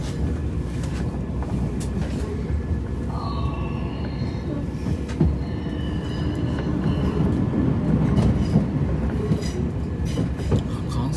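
Passenger train running on rails as it arrives at Nottingham Station, with a continuous loud rumble, rhythmic wheel clatter and faint brake or wheel squeals, heard from inside the carriage.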